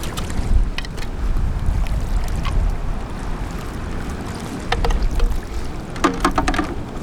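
Water sloshes and swirls in a gold pan during panning of nugget-bucket paydirt outdoors, a steady churning wash with wind across the microphone and a few sharp clinks of rocks or gravel near the end.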